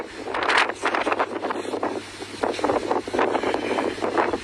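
Strong evening wind gusting across a misty mountain viewpoint at Pha Hua Sing, Phu Thap Boek, buffeting the microphone in loud, surging roars that rise and fall continuously with no voices.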